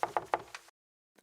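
Four quick knocks sound on a door, close and crisp in a tight rhythm. Silence follows, then a faint tap.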